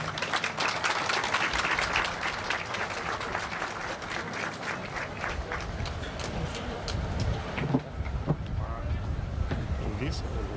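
A crowd applauds the general director of Mega Shopping Park at the opening of Mega Park in Gevgelija, with dense, steady clapping that stays loud for the whole stretch and thins slightly near the end.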